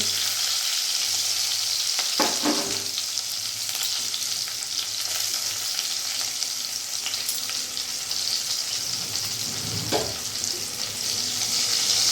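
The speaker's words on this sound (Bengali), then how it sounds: "এবার এই কড়াই তেলের মধ্যে আমি একেবারে ফোড়নে দিয়ে দিলাম জিরে শুকনো লঙ্কা তেজপাতা" Hot oil in a wok sizzles steadily with a bright, crackling hiss as cumin, dried red chillies and bay leaves fry, broken by a couple of soft clinks, with no talking.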